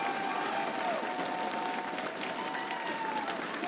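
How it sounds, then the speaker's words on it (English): A large arena crowd applauds the winning team at a Rainbow Six Siege major, a sustained wash of clapping and cheering with faint voices and whistling tones running through it. "Yes, give them all a round of applause."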